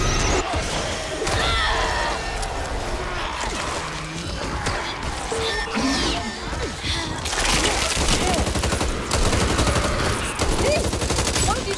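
Rapid bursts of automatic gunfire and heavy shots in the zombie shooter game Back 4 Blood, loud and nearly continuous with crashes and impacts mixed in, while players shout over the shooting.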